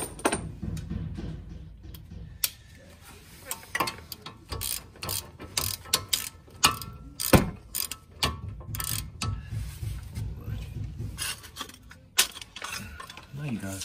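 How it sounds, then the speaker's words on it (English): A nut tightened on the front hub of a 2007 Chevrolet Malibu with a 15 mm ratchet, a run of quick clicking ratchet strokes in irregular bursts with metallic knocks, close up. "I'm gonna tighten this down."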